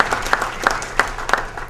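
A small audience at a community night-out meeting applauds a police chief, producing a short burst of scattered, uneven claps heard fairly close.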